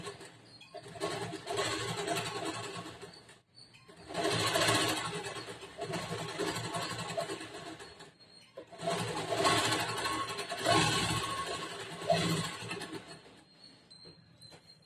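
A sewing machine stitching a blouse boat neck runs in two long bursts separated by brief pauses, a steady whirring rattle close by with no talk.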